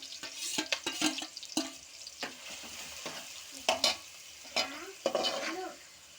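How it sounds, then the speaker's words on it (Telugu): Chopped onions and green chilies sautéing in a pan for a china gurakalu dish, giving a soft sizzle broken by repeated scraping stirs, close and moderately quiet, with no one talking. "పచ్చిమిరకాయలు ఉల్లిపాయ ముక్కలు వేసేసుకుని మగ్గనివ్వాలి"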